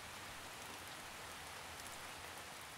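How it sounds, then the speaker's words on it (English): Steady rain hisses evenly on a surface in St. Petersburg, a dense wash of fine drops with no other sounds. "It's raining, it's snowing, it's windy, it's cold."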